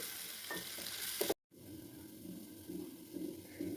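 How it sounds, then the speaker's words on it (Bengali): Spices fried over a very low flame for a fish curry: a quiet, close sizzle with soft stirring scrapes, broken by a brief silent gap before the faint frying resumes. "এইগুলো দিয়ে, মশলাগুলো দিয়ে ভালো করে লাল লাল করে ভেজে নিতে হবে"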